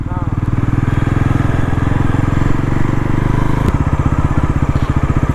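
Bajaj NS400 motorcycle engine pulling along in fourth gear, a loud, close, throbbing exhaust beat with a steady rhythmic pulse that shifts slightly in pitch partway through, wind noise around it.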